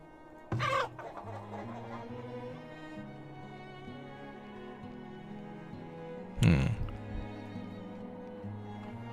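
Chickens in the farming survival game Farthest Frontier give two short bursts of clucking against a steady game backdrop, the first near the start and a louder one later, with quiet stretches between.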